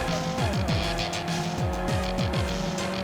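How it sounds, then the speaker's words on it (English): Cars race through city streets in the video game Ridge Racer Unbounded, with continuous loud engine roar, repeated rising gear-shift sweeps and faint tire squeal, steady throughout. "racing through the city here"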